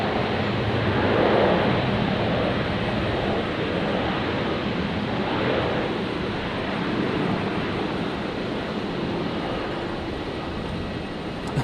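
A Qantas Boeing 787 Dreamliner landing on runway 01 right at Brisbane, a steady broad jet roar rising and falling slightly as it passes, fairly distant and alone.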